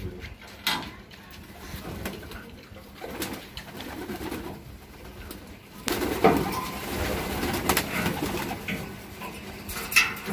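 Pigeons coo softly in soft, repeated bursts, with scattered rustling and clattering nearby and a louder stretch of activity in the second half.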